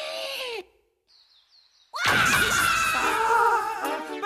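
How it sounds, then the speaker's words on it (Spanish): A loud, shrill animated scream bursts in after a brief near-silent gap with faint high tones, sustained and harsh to the end. "¿A qué ha venido ese grito tan grande?"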